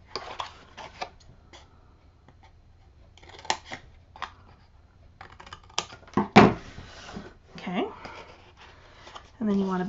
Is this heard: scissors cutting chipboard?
yes